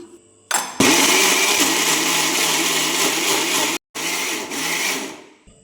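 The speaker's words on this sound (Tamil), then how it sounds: "இப்போ இதை மிக்சி ஜாரில் மிக்சியில் போட்டு ஒரு ஒரு ஒரு நிமிஷத்துக்கு அரைச்சி எடுத்துக்கலாம்" An electric mixer grinder whirs loudly and steadily as it grinds a sweet semolina mixture, stops briefly, then starts again.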